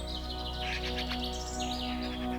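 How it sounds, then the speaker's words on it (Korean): A yellow oriole calls above a mountain valley, squabbling with a magpie: a run of bright, chattering chirps and warbles over a steady low hum, with no talking. "우리의 머리 위에서 골골거리며 까치와 시비를 하는 노란 꾀꼬리도"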